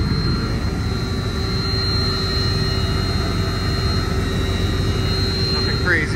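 Large shaft-driven cooling tower fan running outdoors at a chiller plant, a loud, steady low roar with a constant whine above it that continues unbroken throughout.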